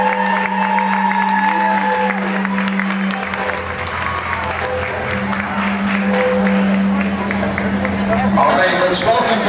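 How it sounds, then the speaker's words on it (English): A gymnastics meet crowd claps and cheers steadily throughout, a dense wash of applause and voices with an announcer talking loudly over it. "keep cheering there, Emerald City. You got a big team here. You got to make some noise"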